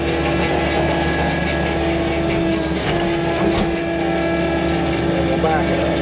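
Suihe SSC 72 inch compactor revs up, a loud, dense diesel engine drone with hydraulic hum and rumble that stays steady throughout, with a voice talking faintly underneath.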